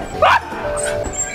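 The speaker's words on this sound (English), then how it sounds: "This dog, I swear." A dog gives a single sharp, loud bark indoors, followed by quieter whimpering yips against steady room noise.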